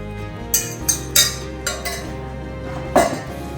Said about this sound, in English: What I'm going to do now is add my egg mixture